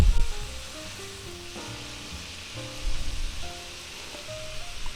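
Cabbage frying in a pan with eggs, ham and vegetables while being stirred, a continuous crackling sizzle with bursts of scraping, close up and unaccompanied by speech.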